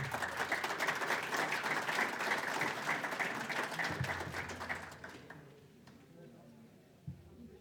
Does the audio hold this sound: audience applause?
yes